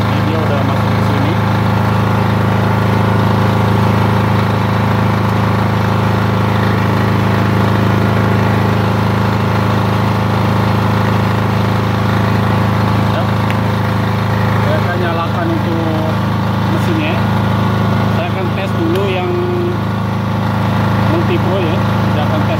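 Multipro welding generator set for 450 and 900 watt welders, its engine running loud and steady throughout with a constant droning hum, with a voice speaking over it at times.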